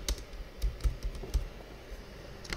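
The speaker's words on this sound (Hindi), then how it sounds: "फुल नेम मैं यहाँ पर लिख देता हूँ।" Someone types a full name on a computer keyboard, filling in an online registration form for the Kedarnath Yatra, with soft, irregular key clicks close by and no talk.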